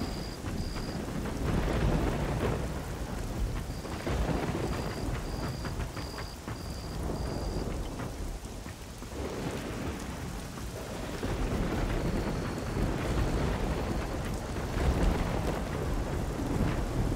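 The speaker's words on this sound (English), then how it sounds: "rain effects, rain sounds, but I don't see any rain." Steady heavy rain with rolling thunder fills the ambience of the video game Risen 2: Dark Waters, a dense continuous wash that swells and dips, with faint tonal beeps over it.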